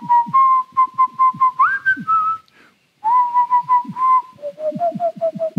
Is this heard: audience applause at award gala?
no